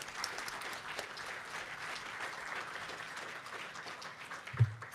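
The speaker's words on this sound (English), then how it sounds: "So really applaud Scott for his commitment to the cause" Audience applause at a conference, a faint, steady wash of clapping from a crowd that continues throughout, with a single soft thump near the end.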